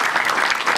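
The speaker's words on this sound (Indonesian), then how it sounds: "Tepuk tangan untuk Yusril." Applause from a stand-up comedy audience for comedian Yusril, a dense, steady wash of clapping filling the whole short moment with no voices over it.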